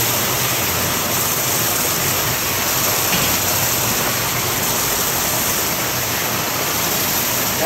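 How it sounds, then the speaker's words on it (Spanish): Whirlpool hot tub at a hotel with water rushing and churning as a steady, loud, broadband wash that holds unbroken throughout, with no voices. "El hidromasaje que nos lo han preparado."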